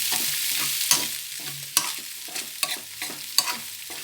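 Tomato rice ingredients sizzling in hot oil, a steady frying hiss close by, broken by several sharp scrapes and knocks of a spoon stirring the pan.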